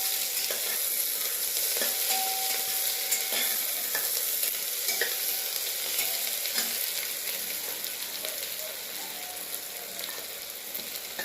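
Onions frying in hot oil for a biryani, browning to a reddish colour while being stirred: a steady close sizzle with scraping stirs running throughout, no talking.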